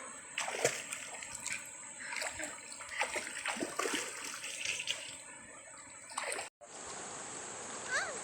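A river running through a forest in Bohol, Philippines, a steady close rush of flowing water with splashes and gurgles throughout, continuous and moderately loud, briefly cut before resuming.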